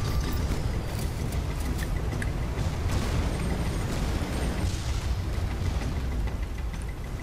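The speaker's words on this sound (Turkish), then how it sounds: "Bir gemi patladı, güzel." A ship explodes in the video game Guns of Icarus Online, a dense, roaring burst of noise rolling on for several seconds with heavy rumbling debris.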